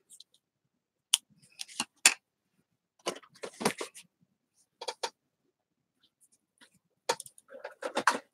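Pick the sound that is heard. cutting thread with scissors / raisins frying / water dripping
cutting thread with scissors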